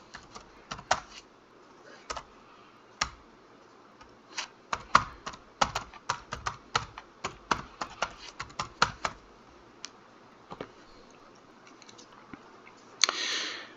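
A password being typed on a computer keyboard: quiet, irregular clusters of sharp key clicks with short pauses between bursts, close and alone, ending in a brief louder rustle.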